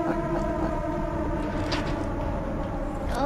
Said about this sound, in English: Siren and everything.